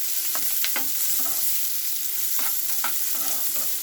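Onions and curry leaves frying in a pan give off a loud, even sizzle close by, with several scraping strokes as a spoon stirs them.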